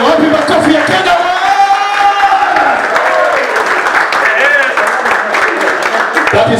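Applause and crowd noise fill the hall at a football club's end-of-season awards gala, sustained clapping with scattered cheers throughout, loud and close.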